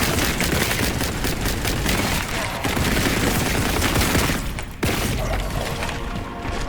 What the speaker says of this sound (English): I shouldn't have threw a grenade at him there, but it actually worked.